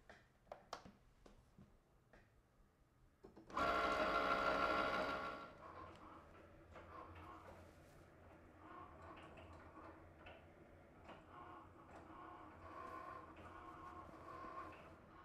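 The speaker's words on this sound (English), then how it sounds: "we're gonna press that flashing Cricut button" A Cricut cutting machine cuts a reusable stencil, opening with a loud whirring burst followed by quieter, rhythmic ticking and mechanical movement close by, no voices.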